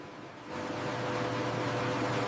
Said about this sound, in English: Here, powerful fans circulate warm air between the trays in a consistent pattern.